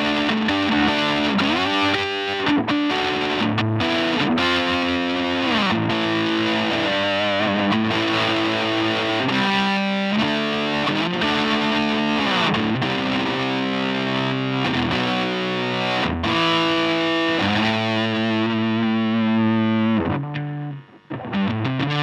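An electric guitar plays through an Ibanez MS10 Metal Charger distortion pedal, producing loud, sustained overdriven chords and riffs with a thick, buzzy tone throughout before cutting off abruptly near the end.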